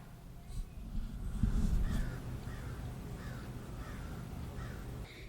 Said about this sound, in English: There's a crow just going crazy outside.